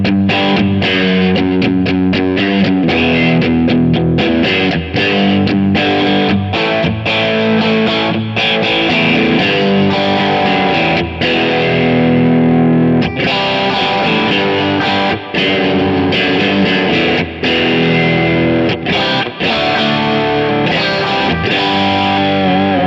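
Electric guitar through a J Rockett Audio Designs .45 Caliber overdrive pedal plays loud, continuous distorted chords and riffs with a Marshall-like crunch and heavy bass, close and unbroken throughout.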